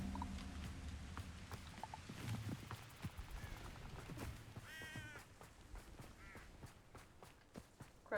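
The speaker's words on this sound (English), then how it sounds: "Crows." Crows caw in the Hogwarts Legacy game world, a few harsh calls rising over soft footsteps and ambient outdoor game sound.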